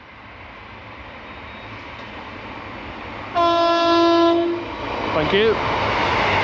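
A train on the coastal line north of Dawlish sounds a loud two-tone horn for about a second as it passes, over a steady rolling rumble of wheels, with a brief spoken thanks afterward.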